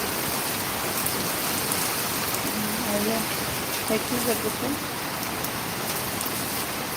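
Rain falls steadily outdoors at night, a constant soft hiss with faint patter, and a voice talks briefly and quietly in the background.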